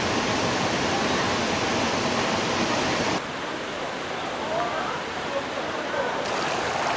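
A cold mountain valley stream near Inje, South Korea, pours steadily, a loud broadband hiss of fast water; the sound dips slightly midway, then continues unbroken.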